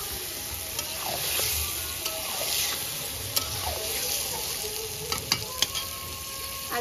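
Mustard chicken (shorshe chicken) stirred and sautéed in a pan, a steady close sizzle running throughout with a few sharp scrapes and clicks of the spoon against the pan.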